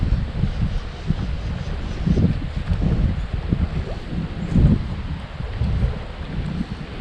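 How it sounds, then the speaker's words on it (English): Cold wind buffeting the microphone beside a river, low gusty rumbles rising and falling in uneven surges with no talk. "That wind's way too cold to be swimming."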